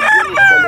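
A deep-red fighting rooster crows at a livestock market, one loud, close, drawn-out call with a rough, wavering tone.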